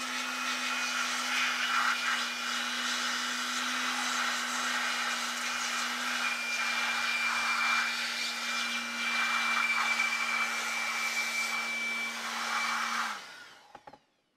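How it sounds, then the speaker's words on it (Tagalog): Blower drying liquid off an EVGA GTX 1060 3GB graphics card during repair, a loud steady rushing whine held for about thirteen seconds before cutting off abruptly with a few faint handling clicks. "Blower ko lang. Para matanggal yung mga liquid."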